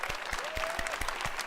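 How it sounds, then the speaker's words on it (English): A live audience at the EA E3 2018 presentation claps in a brief burst, with a dense patter of hands and a faint crowd murmur beneath. "Let's give them all a round of applause."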